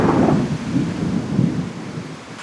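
Thunder rolls over heavy rain in a leaky garage, a near, loud rumble that swells and fades twice over a constant hiss of downpour.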